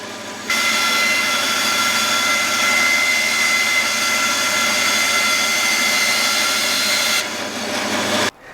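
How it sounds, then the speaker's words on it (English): A bandsaw cutting through wood: a loud, continuous whining roar that starts abruptly, holds steady for about seven seconds as the blade runs through the piece, then cuts off. "I'm then cutting this out using the bandsaw"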